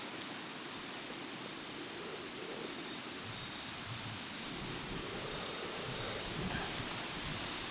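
A camp stove burner roars steadily beneath a pot of water during an overnight camping trip, a constant, even hiss of flame that stays close and moderately loud with no talk.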